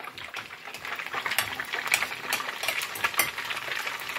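Clown knifefish cakes fry in a hot pan of oil, a dense continuous crackle and sizzle with scattered louder pops, close and steady throughout without speech.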